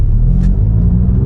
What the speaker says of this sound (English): It is a noisy car